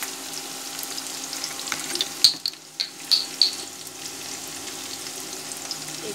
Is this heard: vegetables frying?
yes